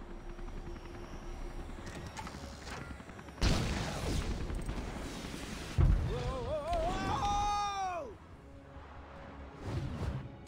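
An attacking ship opening fire in LEGO Marvel Super Heroes, with a sudden loud blast and rumbling explosions, then falling whooshing tones and a second burst near the end.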